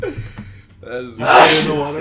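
A single loud sneeze bursts out close by right after a brief spoken question, sharp and breathy.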